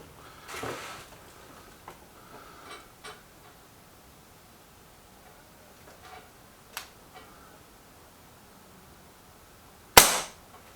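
A Lee Enfield Sentry air rifle fires one sharp, loud crack near the end, following faint scattered clicks and small knocks, outdoors with no talking.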